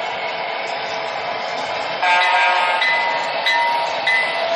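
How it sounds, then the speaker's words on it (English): An MTH model train starts up and rolls down the track under Arduino and CC1101 radio control, a steady mechanical running hum with a few brief tonal horn-like blips, close and with no talk. "Now the program will just start up the first train,"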